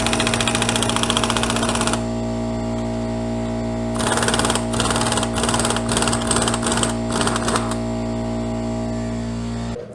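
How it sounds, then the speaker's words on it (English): An impact wrench working loose a tight primary nut on a Harley-Davidson in a workshop, heard as repeated short bursts of rapid hammering over a steady mechanical hum. "I had to go to the impact and get it off that way"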